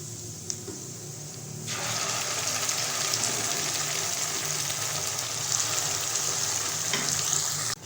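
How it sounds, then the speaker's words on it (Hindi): Mustard greens go into a hot pan of sarson ka saag. A soft clatter comes first, then a loud, steady sizzle and frying hiss with faint stirring scrapes, and no talk. "अब हम इसमें डालेंगे साग।"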